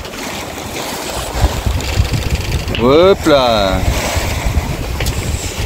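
Heavy swell rolls against a sailboat at night, a steady wash of water and wind noise running throughout, with a voice speaking briefly in the middle.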